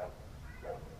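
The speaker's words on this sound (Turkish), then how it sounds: "Köpek ağlıyor." A dog whimpers faintly in two short, high whining cries, separated by a pause, over a low background rumble.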